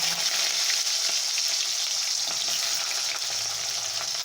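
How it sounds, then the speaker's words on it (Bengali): Potatoes fry in a pan with cinnamon and green chilli for a minced soybean dish, giving a steady, close, even sizzle throughout with no voices. "আলুটাকে ভেজে নেব।"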